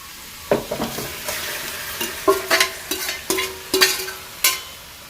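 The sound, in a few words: chicken pieces added to a hot pan, sizzling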